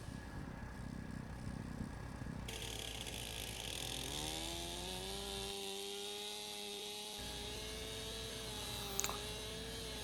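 A chainsaw cuts through a hardwood log, its engine droning steadily and rising in pitch under load, with the motor note shifting as the bar works through the wood.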